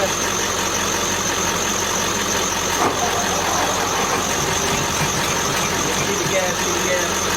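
Ford flathead engine being resurrected runs with a steady rough idle and faint knocking, loud and close, while people talk over it.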